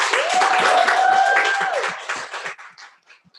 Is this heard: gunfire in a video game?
no